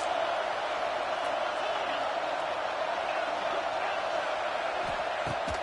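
A dense, steady roar from a large college football stadium crowd in a video game, a constant wash of distant cheering with no breaks.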